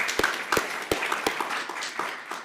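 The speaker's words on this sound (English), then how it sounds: "Let's have a round of applause for our friends on Capitol Hill." An audience applauds at an Artemis Accords anniversary celebration, a fairly quiet, short patter of scattered claps from a crowd, heard alone without talk.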